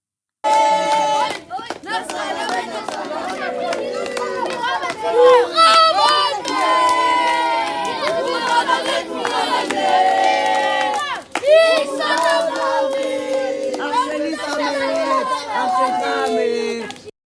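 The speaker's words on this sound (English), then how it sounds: "that was a group of Israeli settler youths outside of Amra's house, throwing stones, shouting and threatening him" Group of Israeli settler youths outside a house in Hebron, shouting and yelling in a loud, continuous, agitated crowd clamor with overlapping voices; stone throwing is not distinctly audible.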